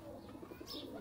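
Pigeons coo softly in a loft where many birds are kept, giving a faint, low, rolling murmur with a brief higher chirp near the end and no voices.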